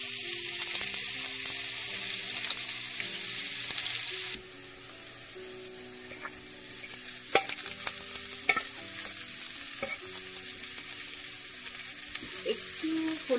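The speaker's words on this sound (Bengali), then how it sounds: "এতে কিছুটা পেঁয়াজ দিয়ে দিলাম" Onion fries in a pan with steady sizzling, and a utensil scrapes and knocks at irregular moments as it is stirred, close and fairly loud with no voices.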